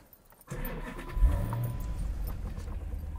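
A 2014 Dodge Challenger R/T engine cranks briefly and catches, then settles into a steady low idle rumble close by.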